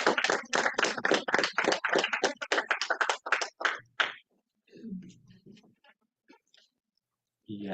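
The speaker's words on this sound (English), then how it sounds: "Give yourselves a round of applause for being here during Dead Week." A small town hall audience claps in a dense burst for about four seconds, then it thins to a few scattered claps and murmurs before a voice resumes.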